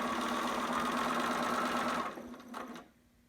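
A sewing machine runs steadily while sewing a newborn romper through a thick top section, a close continuous hum that slows and stops near the end.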